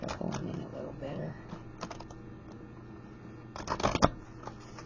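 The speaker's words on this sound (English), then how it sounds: "shuffle them in a little better" Stiff, new, large tarot cards being shuffled by hand, light papery riffles and taps in uneven bursts, building to a louder clustered flurry near the end, close and fairly soft.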